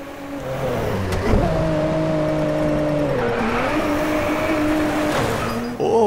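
A Nissan Skyline GT-R R34 V-Spec II in the Driveclub racing game revs hard and holds a steady, loud engine drone with shifting pitch, briefly dipping near the end, with no voices.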